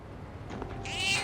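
A cat meows in the video game Persona 3 Reload, one short, clear, rising meow heard close up over quiet background, with no talk.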